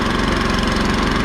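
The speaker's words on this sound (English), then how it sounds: "this is the tiller in action" A small garden tiller engine runs loud and close with a steady, rough chugging throb, working a strawberry row with no voices.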